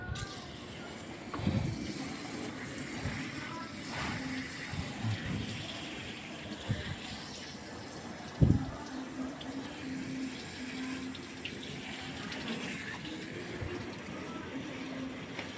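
Shower water sprays over a car to check for a leak at the driver-side footwell, a soft continuous hiss and patter with a few louder knocks, while people talk quietly over it.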